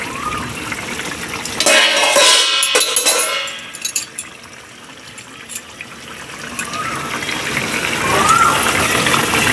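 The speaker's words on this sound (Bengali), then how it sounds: "ঝোলটা এবার ফুটছে" Boal fish curry with taro stolons and potato bubbling in a pan, a loud gushing, sizzling boil that dips briefly as the pan is shifted, then rises again into steady bubbling.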